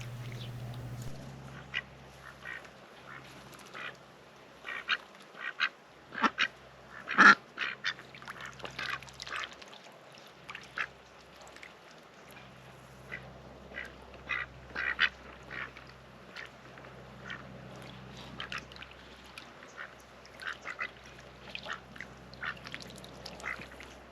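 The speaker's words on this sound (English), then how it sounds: "at the moment we only have one duck who will swim, and that's the young mallard on the right who was born here last year" Homestead ducks, including a young mallard, quacking repeatedly near water: irregular bursts of nasal quacks, some loud and close, others softer, spread across a low steady background hum with no talk.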